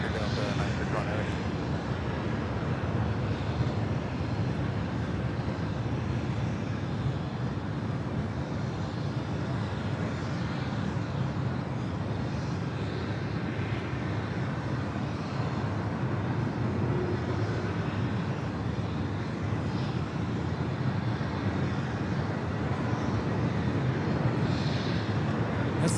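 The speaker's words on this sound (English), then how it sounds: "This flight heading to Detroit, 737-900 ER, Delta Airlines flight 802" A Delta Airlines Boeing 737-900ER jet at LAX bound for Detroit, a steady, loud, rumbling engine roar that holds for the whole stretch, with faint voices talking underneath.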